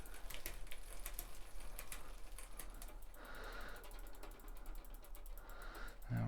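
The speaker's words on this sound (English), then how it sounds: "you're going to run this through the gears, make sure it shifts nice and smooth." A Specialized Ariel bicycle drivetrain is run through its gears on a maintenance stand, giving steady rapid ratcheting freewheel clicks with occasional shifting clunks, close and alone.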